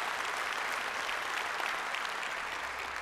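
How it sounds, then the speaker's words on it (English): Sustained audience applause at a city's State of the City address honouring council members, a dense steady wash of clapping with no talk over it. "Let's give both of them a round of applause."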